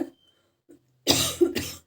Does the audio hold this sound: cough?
yes